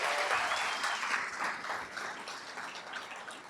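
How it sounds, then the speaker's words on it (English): An audience at a State of the City event in Chino Hills applauds Mayor Ray Marquez, sustained dense clapping at moderate level with a few voices mixed in. "Let's give a round of applause to Mayor Ray Marquez"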